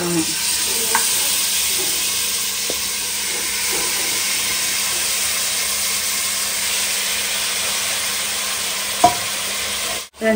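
Marinated chicken for Hyderabadi dum biryani cooking in a pot with onion, green chilli and spices, giving a loud, continuous close-up sizzle and hiss with occasional faint clinks and one sharp knock near the end.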